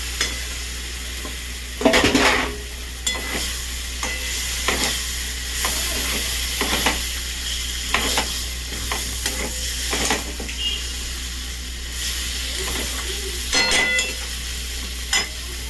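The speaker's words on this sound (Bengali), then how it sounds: "এবার আমি চিংড়ি মাছটা দিয়ে দেবো।" Shrimp fry in a pan with a constant loud sizzle and hiss, broken by repeated scraping and clacking strokes of a utensil as the pieces are stirred, close up and with no talking.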